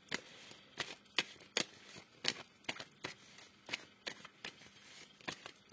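Oracle cards shuffled for a love tarot reading, with about a dozen crisp riffling flicks and slaps at an irregular, fairly quick rhythm, close and moderately loud over quiet room tone, with no voices.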